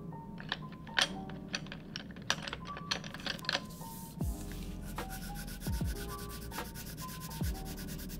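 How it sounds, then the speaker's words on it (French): Pencil coloring in a sky on a paper drawing for an Earth Day art project, heard as repeated close scratchy rubbing strokes in short bursts, with faint background tones underneath. "Je vais colorier mon ciel."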